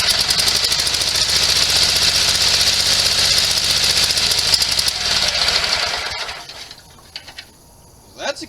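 A Sears SS16 garden tractor engine with dirty ignition points runs in a loud, steady, rapid chug for several seconds, then cuts off and falls quiet, with faint handling noise at the end.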